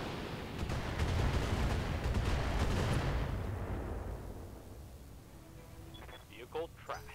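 Heavy mech weapons in the RogueTech game, a Demolisher firing everything at once, a dense roaring barrage of blasts and explosions that swells, then fades into scattered smaller pops and clanks.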